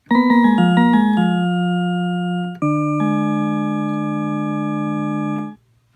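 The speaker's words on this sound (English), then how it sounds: "Peculiar sort of organ sound, not particularly good." An electronic organ preset on a Livingstone DM650 keyboard plays a few quick notes, then holds long sustained chords that cut off abruptly, steady and close.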